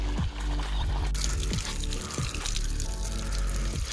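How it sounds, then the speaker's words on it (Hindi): Water gushes steadily under pressure from a household pipe, a loud, continuous rushing pour close by with no talk. "तो भाई धीरे धीरे ये पानी का प्रेशर बढ़ जाएगा, बहुत प्रेशर से आता है पानी"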